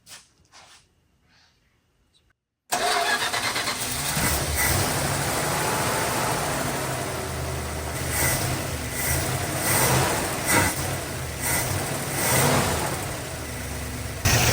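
An old Mopar car engine idles steadily and close by after a brief quiet start, following a carburetor swap, with a rough, slightly uneven rumble and a few small fluctuations in pace.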